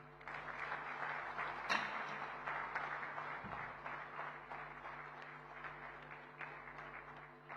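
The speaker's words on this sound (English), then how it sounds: "let that applause continue" Sustained applause from a convention audience after a keynote address at a national chamber of commerce convention, steady and moderately distant, with a sharper burst near the start and no talking over it.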